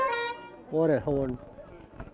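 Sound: car horn honking on a modified rat car

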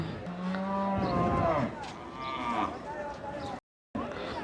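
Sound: cow mooing at a cattle market

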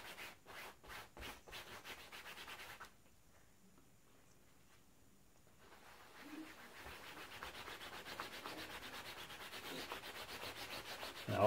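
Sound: rubbing canola oil into face paint stain on clothes

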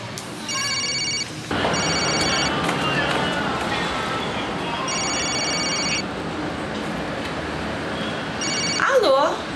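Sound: telephone ringing

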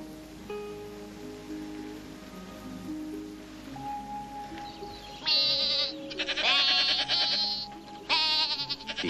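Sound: goats bleating

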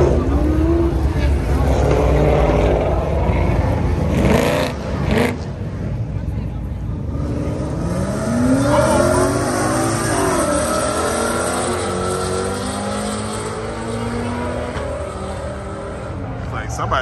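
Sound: Mustang and Ferrari drag racing at a speedway

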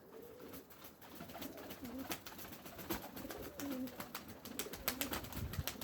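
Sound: pigeons cooing

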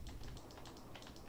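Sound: clicking of a noisy computer mouse

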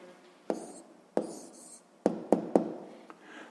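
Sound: writing down a math answer

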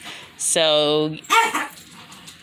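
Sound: dog barking

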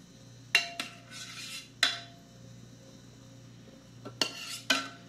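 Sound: pot being turned over and scraped

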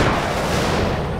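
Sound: artillery barrage in video game Company of Heroes

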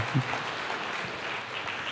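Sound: congregation applause for God

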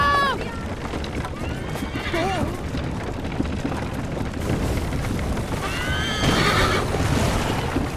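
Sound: horse neighing and hooves, from a video game

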